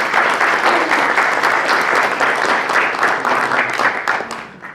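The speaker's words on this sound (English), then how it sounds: "let's give them a big round of applause" Sustained audience applause fills an evening gathering after a speaker's thanks, a dense steady wash of many hands clapping that stays loud throughout and only starts to thin at the very end.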